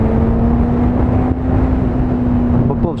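A 650cc motorcycle engine held high in third gear at around 7,000 to 8,000 rpm gives a steady, loud droning hum with a constant pitch and slight variation, heard close without talk.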